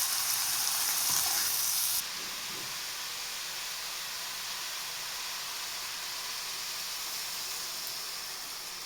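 Turkey meat frying in a pan gives a steady sizzle and hiss. It is louder for the first two seconds, then settles into a softer, even crackle with no voices.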